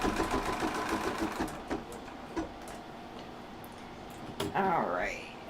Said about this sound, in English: Get it stitching so you guys can see the black glitter.